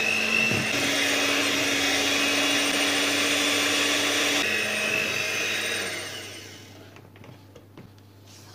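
Electric mixer whirring steadily through cake batter after a packet of baking powder is sifted in, a loud continuous motor hum that drops in pitch midway, then cuts off, leaving quiet clinks and faint rustling.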